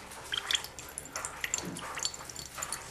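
Water trickles and drips through a solenoid valve in small, irregular splashes and gurgles, fairly close and fairly quiet, with no talking.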